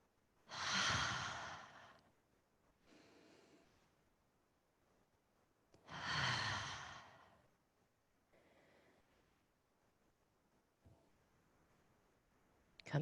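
A person breathes slowly through a wide-legged yoga squat, with two clear, fairly loud sighing exhales several seconds apart and softer, fainter inhales between them in an otherwise quiet room.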